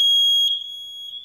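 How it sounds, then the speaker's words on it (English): A Nest Protect smoke alarm sounds during a smoke test, a loud piercing high-pitched tone held for over a second with a brief wobble midway. "This is only a test."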